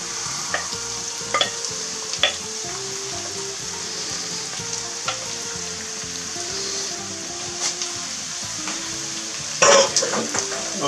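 Bell peppers sizzle in a hot pan while a utensil stirs and scrapes them in repeated strokes, a steady frying hiss under occasional louder clinks, with no talk, while cooking a Corsican-style ciambotta.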